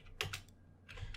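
Close, quick clusters of keystrokes on a computer keyboard as a website address is typed, two short bursts separated by a brief pause.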